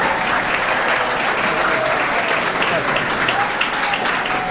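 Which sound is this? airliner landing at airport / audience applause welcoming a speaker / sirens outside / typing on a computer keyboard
audience applause welcoming a speaker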